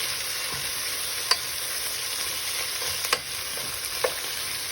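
Cilantro leaves cooking down in a pot for Dominican pollo guisado, a steady close hiss of sizzling with a few sharp clicks of a spoon stirring against the pot.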